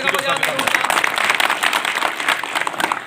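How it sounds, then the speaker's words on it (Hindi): Crowd applause at a rural political rally in Shamli, dense steady clapping from a gathering throughout, loud and close. "जोरदार तालियां बजाओ"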